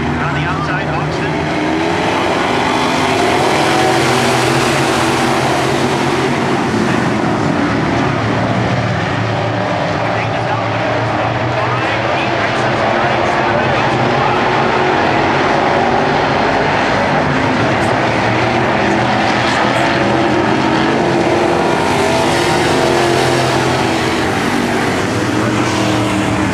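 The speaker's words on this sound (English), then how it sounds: "Justin is revving out of Garfield in the 33X. Revving in the 33X car" B-Mod dirt track race cars at the Ogilvie, Minnesota Topless Nationals, engines revving loud and continuous for the whole stretch, a dense roaring wall of sound with no pauses.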